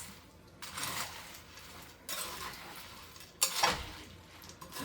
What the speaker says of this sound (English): And let's give it a little mix.